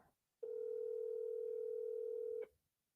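A steady telephone ringback tone sounds alone for about two seconds while a call waits to be picked up, clean and unbroken, with near silence before and after.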